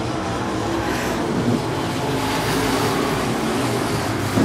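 Several American Modified Series race car engines roar together at a distance on an oval track, a sustained mechanical drone that swells slightly as they pass.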